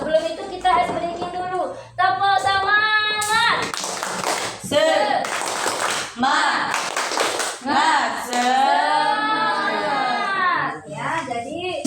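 A group of children in an Indonesian classroom claps in rhythmic bursts, alternating with chanted voices in a lively, patterned 'tepuk semangat' cheer.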